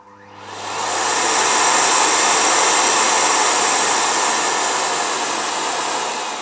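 Miele Complete C3 vacuum cleaner switched on at maximum power, its motor winding up within the first second into a loud, steady high whoosh that holds close and alone.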